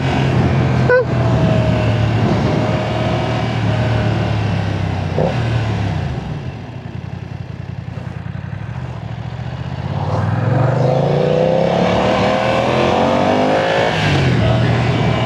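A 2025 BMW F900R motorcycle engine revs up and down loudly, dropping to a lower idle in the middle before climbing again in rising sweeps.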